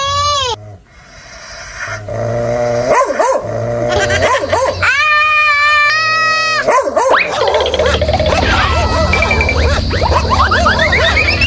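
A dog barks and yips repeatedly, loud and near, with whimpers and excited high-pitched cries mixed in and a voice shouting at one point.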